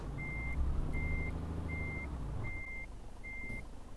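Five evenly spaced electronic reversing beeps sound from a truck in Euro Truck Simulator 2 as it backs into a parking spot, steady and clear over a low engine rumble.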